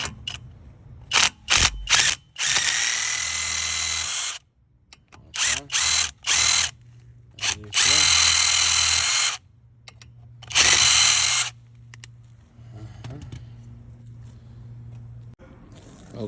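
A power tool whirs in repeated loud bursts, some short and some several seconds long, as it loosens a T30 Torx fastener on the front brakes of a 2016 Chevy Malibu, with brief pauses and workshop noise between runs.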